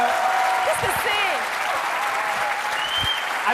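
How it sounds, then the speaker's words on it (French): Audience applause and cheering for Alain Delon on a televised debate set, a continuous loud crowd roar and clapping with voices calling out and talk mixed in. "Alain Delon, sous les acclamations du public."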